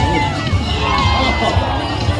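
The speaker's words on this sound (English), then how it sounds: "The crowd is going wild." Crowd at a stunt dog show at New Hampshire Motor Speedway cheering and shouting continuously, a dense loud roar of voices with children's shouts mixed in.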